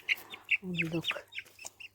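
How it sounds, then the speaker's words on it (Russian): Chickens and chicks cluck close by, a cluster of short clucks with one longer drawn-out call, over a quiet low hum. "Вот цыплята и куры"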